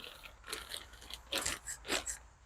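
Plastic sheeting crinkles and rustles in several uneven bursts as it covers a compost pile, with two louder crackles near the end, close to the listener.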